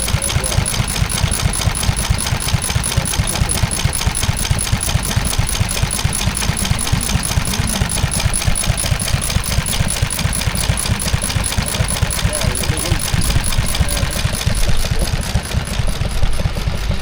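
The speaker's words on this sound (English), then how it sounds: "stationary engines essentially did the job what an electric motor would do now" A stationary engine runs at the Cuckoo spring fair in Laughton, Sussex, chugging with a steady, even beat that stays close and loud for the whole stretch over faint outdoor fair background noise.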